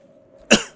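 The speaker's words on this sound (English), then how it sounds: "I'm still coughing a little bit" A single sharp, close cough bursts out against a quiet, faintly humming background.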